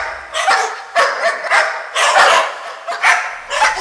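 Two dogs bark sharply and repeatedly in close, loud bursts, a tense sound effect in a Hindi horror story.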